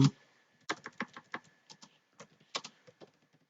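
Close, crisp keystrokes on a computer keyboard while HTML code is entered, coming in short irregular bursts of clicks with brief pauses between them and no talking.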